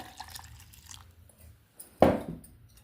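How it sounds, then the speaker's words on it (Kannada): Water from a glass is poured into churned cream while making homemade ghee, a short splashing gush arriving after a stretch of quiet, faint handling noises. "ಇದಕ್ಕೊಂದೆರಡು ಗ್ಲಾಸು ನೀರು ಹಾಕ್ಕೋತೀನಿ."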